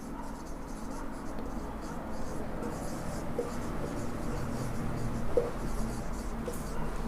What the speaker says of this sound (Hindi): तो प्रैक्टिस क्वेश्चन लिख लेता हूँ।